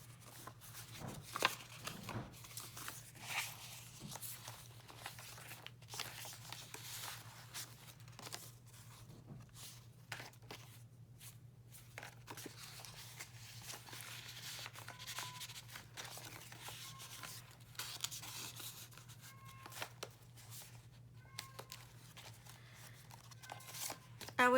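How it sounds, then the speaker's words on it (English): Paper pages of vintage handmade journals being turned and items moved, soft rustles and crinkles recurring through a quiet room with a steady low hum beneath. "try to just be quiet and let you just hear the paper as I turn the pages"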